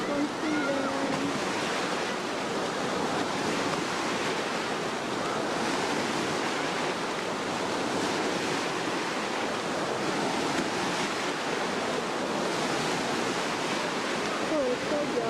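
Wave pool water at Blizzard Beach water park washes in a steady, broad rush, moderately distant and continuous, with a faint voice briefly audible.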